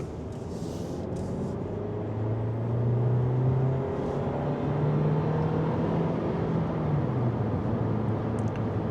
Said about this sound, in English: So let me show you the acceleration.